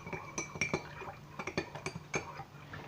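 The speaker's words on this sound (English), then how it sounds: "we'll get the spoon back in there and we'll give our stock another wee spur about" A spoon stirring stock in a pot for sausage pasties, making a string of light, irregular clinks and taps against the pot's sides, close and fairly quiet, with no talking.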